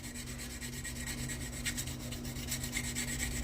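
Fine-grit sandpaper rubbed over a primed model, a steady close rasping scrub with quick back-and-forth strokes over a low constant hum.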